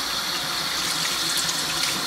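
A tap runs steadily while rinsing a makeup sponge, water splashing with a constant broad hiss and no voices.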